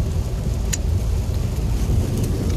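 A car drives through rain on the way to the beach at Renesse, giving a steady, loud low rumble of road and engine noise with a hiss of rain over it and no talking.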